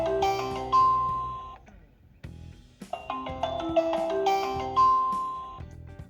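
A Wi-Fi baby monitor camera calling a phone plays a melodic electronic ringtone, a tonal chime phrase that repeats after a short gap, clear and fairly loud with no talking.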